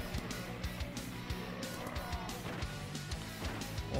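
Car engine driving steadily in the zombie-smashing game Earn to Die 2, no longer boosted, with repeated thuds and impacts over a continuous motor drone and scattered tire noise.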